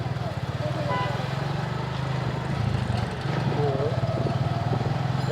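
A motorcycle engine runs steadily while being ridden, its low pulsing drone close and continuous beneath a man's speech.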